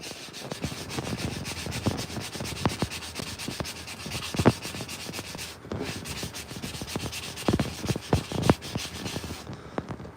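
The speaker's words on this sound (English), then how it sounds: "you can keep right on sanding and sanding and sanding until you chase everything away" Sandpaper worked over a hand-carved wooden spoon in a workshop, a run of quick rasping strokes in an uneven rhythm, close and fairly quiet, with no talking.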